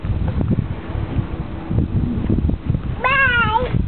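A neighbour's kitten gives one clear, rising meow near the end, preceded by rustling, handling noise and wind buffeting on the microphone in a garden.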